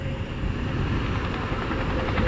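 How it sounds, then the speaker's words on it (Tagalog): In the game Plants vs Brainrots, a helicopter gives off a dense, steady rotor roar that fills the whole moment without a break, loud and continuous with no voices over it. "Helicopter."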